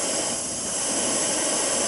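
A portable turbo camping stove hisses steadily while boiling water, a continuous broadband rush held at an even, fairly loud level close by, with no voices.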